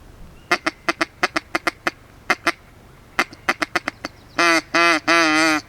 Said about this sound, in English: I can see 2 mallards over there.